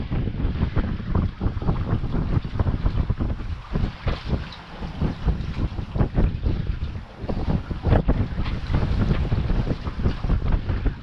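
Strong wind buffets a sailboat out on open water, a loud, steady roar with gusty surges and rumbling microphone buffeting throughout, no voices.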